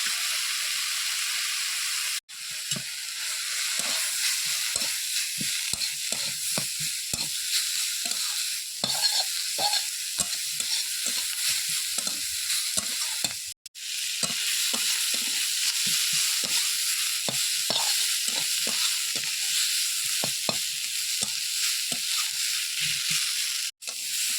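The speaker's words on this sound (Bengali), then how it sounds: "এটাকে আস্তে করে ভেজে নিতে হবে।" Chopped onion fries with prawn head paste in a pan, giving a constant loud sizzle broken by frequent scraping stirs of a spatula, with no talking.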